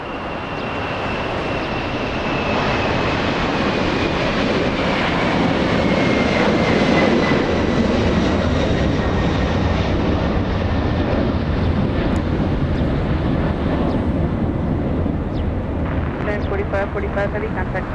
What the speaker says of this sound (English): 747. This is the Ghost leaving in front of LA Flights.